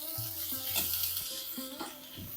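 Green peas, potato, onion and corn sautéing in a pan for veg puffs, a soft continuous sizzle broken by short stirring scrapes and clinks, close and fairly quiet.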